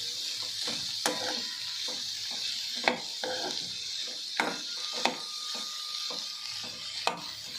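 Bitter gourd sizzling as it fries in a pan over a medium flame, a steady hiss broken by several sharp clinks and scrapes of a stirring utensil, close up and without speech.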